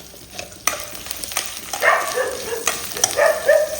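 Masala sizzles in hot oil with curry leaves and asafoetida added for kolambu, a soft crackle under occasional spoon scrapes and a couple of sharper spatters, near and fairly clear, no talk.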